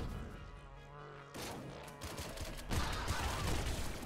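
Weapon fire in the video game Nuclear Throne, Ultra Mod. Dense bursts of shots and impacts stack up and get louder partway through, then keep going as continuous gunfire with no speech.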